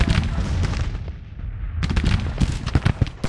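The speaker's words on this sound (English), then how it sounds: "These cannons are shooting." Civil War cannons fire in the strategy game Grand Tactician: The Civil War, a rapid series of booming shots and cracks, some overlapping into rumbling volleys, loud and close with brief pauses between bursts.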